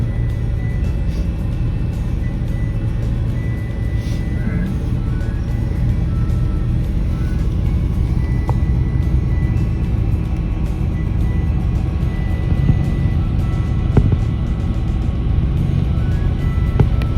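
Traffic near the Mexico border crossing in Arizona, with a steady low road rumble of cars passing continuously at moderate distance and no talking.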